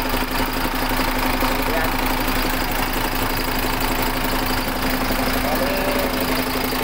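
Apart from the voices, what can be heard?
newly overhauled MAN diesel engine running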